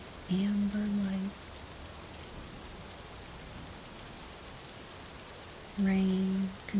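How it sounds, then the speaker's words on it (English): Steady rain falls outside a house, a soft continuous hiss throughout, with two brief louder tonal sounds breaking in near the start and end. "Rain continues whispering outside."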